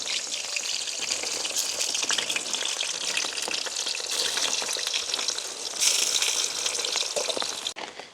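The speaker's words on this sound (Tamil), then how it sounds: "அப்படியே மற்ற பன்னீர் துண்டுகளையும் போட்டு பொரிச்செடுப்பேன்." Homemade cow's-milk paneer pieces sizzle and crackle in hot oil, a dense continuous hiss of popping spatters, close up, swelling briefly louder before a sudden drop at the end.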